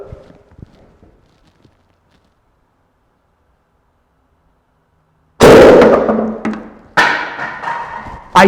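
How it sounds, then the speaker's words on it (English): Near silence in a chemistry demonstration is broken by a sudden loud bang as a small combustion explosion blows the lid off a container, followed by clattering thuds and a second sharp impact. "you heard at least a little bit of a bang, and I'm sure you could see the lid has gone"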